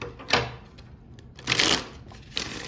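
A tarot deck is shuffled by hand during a card reading, with three quick, close papery riffle bursts separated by short pauses.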